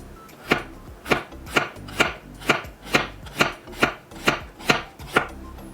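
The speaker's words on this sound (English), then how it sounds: "Cut it into 3 centimeters or an inch length juliennes," A knife cuts vegetables into thin julienne matchsticks for tomato kimchi, about ten crisp, regular chops on a board, close and distinct with no talking.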